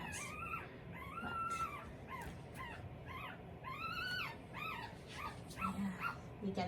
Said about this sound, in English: I hear the puppies in the other pen